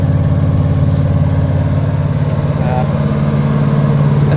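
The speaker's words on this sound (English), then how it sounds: "As you can tell, I do have an exhaust leak right around here." Engine idling steadily with an exhaust leak, a carbureted motor being run during an STP engine treatment, giving a close, continuous low throbbing rumble with a faint puffing tick and no voices.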